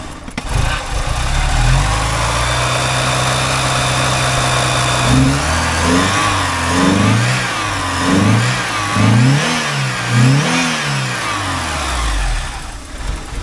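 A 1984 Porsche 944 engine with a rough, unsteady idle and a suspected vacuum leak runs near the microphone, settling into a lumpy idle before a series of repeated throttle blips rev it up and down.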